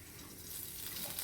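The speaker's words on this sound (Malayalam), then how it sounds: "ചട്ടിയിലിട്ട് ഇളക്കി വറക്കുക" Grated coconut, shallots and garlic frying in coconut oil in a pan, a steady close sizzle with faint stirring, continuous and fairly quiet, no voices.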